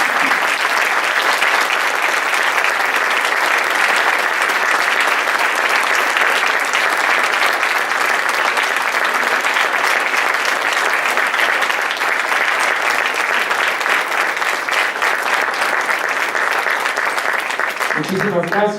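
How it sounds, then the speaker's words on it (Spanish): Loud, dense audience applause at a memorial tribute runs steadily for the whole span and stays strong right to the end. "Por tal motivo, un fuerte aplauso para Sergio."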